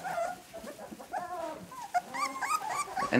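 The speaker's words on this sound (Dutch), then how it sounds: "Een Mechelse herder puppies." Belgian Shepherd (Malinois) puppies on a farm whimper and yip in a busy chorus of high, wavering cries, close and fairly quiet, with no talking.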